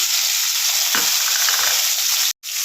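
Garlic, ginger and chopped tomato sauté in a pan with a loud, dense, steady hiss, a brief clatter of stirring partway through and a sudden short break near the end.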